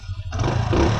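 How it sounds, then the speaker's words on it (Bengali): Close and fairly loud, a Hero Passion 110cc carburetor motorcycle engine runs on, its rough low rumble swelling for about a second with no speech. "ইঞ্জিন সাউন্ডটা আমার কাছে অনেক ওভারঅল ভালো"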